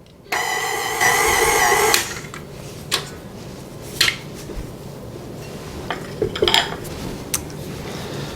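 Shortbread dough being mixed in a bowl starts with a whirring mixer for a couple of seconds, followed by scattered clinks and knocks of utensils against the bowl at close range.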